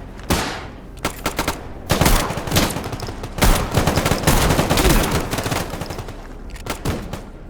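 Repeated gunfire bursts in the game STALKER: GAMMA, loud close shots and rapid volleys in irregular clusters, with sharp cracks and rolling echoes filling the whole stretch.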